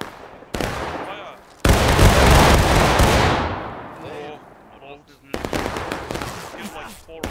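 A company of soldiers fires a single massed volley in a video game, a sudden loud crash of overlapping musket shots that rolls on and fades over about two seconds, with voices talking before and after.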